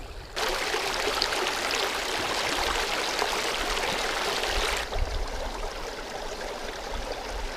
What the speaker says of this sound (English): this is the running water, so what means that it is pretty clean